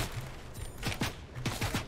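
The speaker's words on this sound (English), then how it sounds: "They're shooting us." Gunfire in the Fortnite video game during a competitive FNCS match, several sharp shots in quick succession aimed at the players, heard at moderate distance with a low in-game hum beneath.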